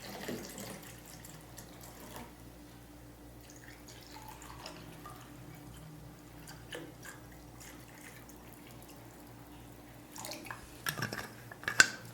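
Water running quietly from a tap into a sink, a soft faint trickle with occasional drips and light clinks of dishes, growing a little busier with louder clatter near the end.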